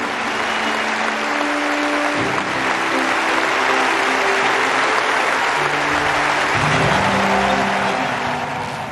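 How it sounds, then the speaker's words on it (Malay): Spectators at the Philippe Chatrier tennis court applaud and cheer loudly and continuously, a dense wash of clapping that swells in places and does not stop. "Apatah lagi dengan sorakan berterusan penonton di gelanggang Philippe Chatrier."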